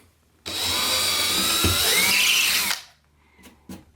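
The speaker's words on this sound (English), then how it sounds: "I'm gonna drill our holes." A power drill bores a hole for mirror mounting clips, running in one steady, loud, high-pitched whine for about two seconds before spinning down, followed by a couple of faint knocks.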